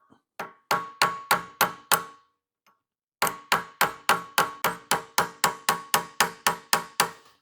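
A hammer strikes a distributor roll pin with crisp metallic knocks: five evenly spaced blows, a short pause, then a longer steady run of about fourteen rhythmic hits, close and alone.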